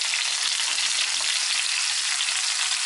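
Chopped potatoes, carrots and garlic hit a hot pan where chicken was just browned, giving a steady, close broadband sizzle and hiss that runs evenly throughout with no voices.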